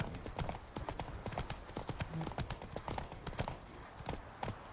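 Horse hooves gallop in a video game, a quick, steady clip-clop of hoofbeats that stays fairly faint and continuous throughout.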